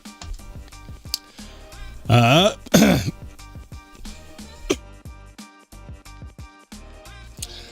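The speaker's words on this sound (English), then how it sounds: "Sorry, I had to clear my throat there for a second." A person clears their throat twice in quick succession, loud and close, in the middle of a live show with background music and talk.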